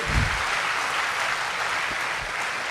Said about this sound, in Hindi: एक जोरदार तालियों के साथ इनका उत्साहवर्धन करें